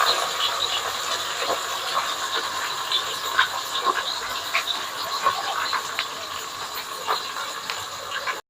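Onions hit hot oil already spiced with bay leaf, cinnamon, cardamom and cloves for chicken biryani, giving a loud, steady sizzle that runs unbroken from start to finish.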